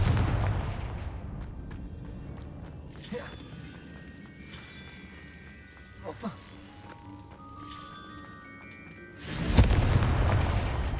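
A Confringo fire spell explosion in Hogwarts Legacy on PS4, heard as a booming blast near the end after quieter ambient game sounds and scattered magical effects.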